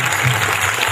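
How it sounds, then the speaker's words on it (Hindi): An audience at a devotional bhajan singing event claps, a dense, loud burst of continuous applause from a crowd, heard briefly and close. "कलाकार वाला ताली तो बजाओ।"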